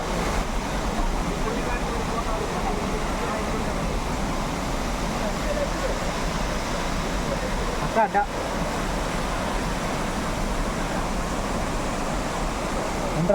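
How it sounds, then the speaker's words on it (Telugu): Steady roar of rushing falling water at Athirappilly Falls in Kerala, loud and continuous, with no other sound standing out. "చూడండి ఇది water falls Baahubali water falls"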